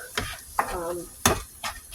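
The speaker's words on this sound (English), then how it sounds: "I'll mix this up real quick" Seasoned meat sizzles in a frying pan while a utensil stirs and scrapes it, with several sharp clanks and scrapes against the pan over a steady frying hiss, close up.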